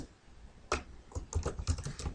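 Close, quiet typing on a computer keyboard, a short irregular burst of key clicks entering text into a word processor, with no voices.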